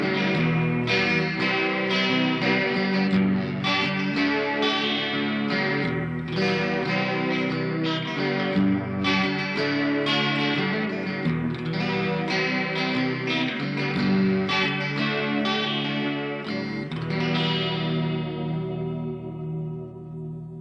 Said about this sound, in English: So let's give it a listen with modulation now.